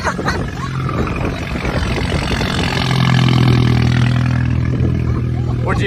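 A rebuilt Mini John Cooper Works exhaust gives a deep, throaty roar up close that swells louder midway, with voices talking over it.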